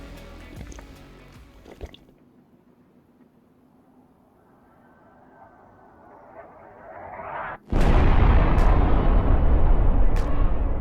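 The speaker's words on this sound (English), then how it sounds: "I so hope that rocket got him." A rocket explosion in the video game DayZ: a quiet stretch with a rising rush gives way to a sudden, loud, wide blast that keeps roaring to the end, with a few sharper cracks inside it.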